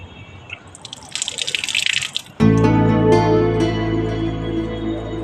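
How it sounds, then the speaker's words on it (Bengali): A tap runs into a sink, first as a scatter of loose drips and splashes, then abruptly as a loud, steady, full stream that keeps flowing to the end, close and with no voices. "ট্যাপ থেকে কি করে জল পড়ছে?"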